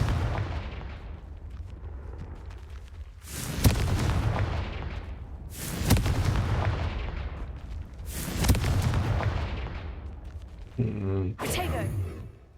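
Booming magical blasting-spell explosions in the Hogwarts Legacy video game, three loud deep blasts a few seconds apart, each decaying into rumble, with a voice speaking briefly near the end.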